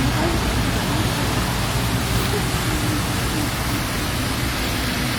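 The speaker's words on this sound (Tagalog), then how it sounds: "Walang tigil man ang ulan" Steady, dense rain falls without a break, a constant broadband hiss that stays even and fairly loud from start to finish with no clear voices over it.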